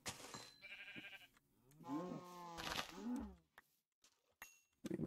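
Two drawn-out video game sheep bleats sound in sequence, the second a bit lower, with quiet gaps and some faint clicks around them.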